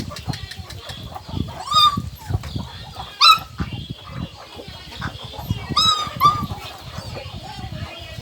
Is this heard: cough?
no